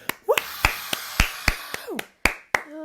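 Hand claps imitate a Broadway audience: about ten sharp, close claps in an uneven rhythm, with short vocal sounds between them.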